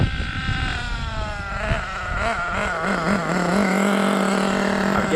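An HPI Trophy Truggy 4.6 nitro RC truck engine runs at partial throttle, its buzzy, high-pitched whine rising and wavering with throttle blips, loud and continuous with no talking.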